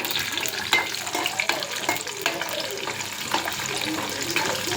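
Tempering spices fry in hot oil for lemon rice, giving a continuous crackling sizzle with occasional sharper pops and stirring scrapes at close range.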